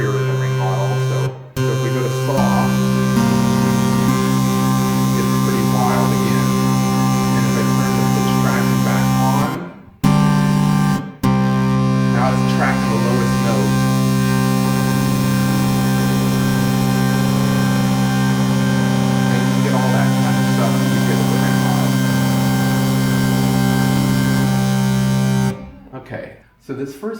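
A Groove Synthesis 3rd Wave synthesizer plays through its ring modulator with a saw-wave carrier, giving a loud, dense, metallic and clangorous drone with harsh buzzing overtones that cuts out a few times between held notes.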